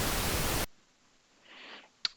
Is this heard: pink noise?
yes